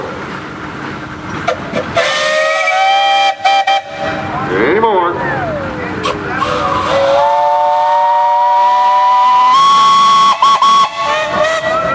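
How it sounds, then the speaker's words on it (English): Steam whistle on a steam engine at the Darke County steam threshers show, blowing several long, loud sustained blasts with shifting pitch over background hiss and crowd noise; someone speaks briefly near the end. "Mr. Stacy, you got a whistle."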